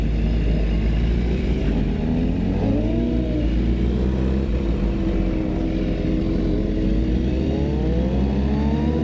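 Sport motorcycles, a BMW S1000RR and Suzuki GSX-R models, ride together, a loud continuous engine roar with rising and falling revs and a deep rumble throughout, no voices.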